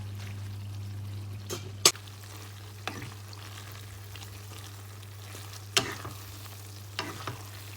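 Shredded pork frying in oil is spread around with a spoon, giving a faint continuous sizzle broken by a few sharp scrapes and taps of the spoon against the pan, with no talk.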